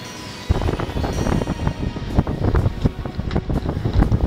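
Strong wind, around 16 to 21 knots, buffets a sailboat at sea: a loud, constant rush of gusts roars across the microphone with rumbling thumps, no voices.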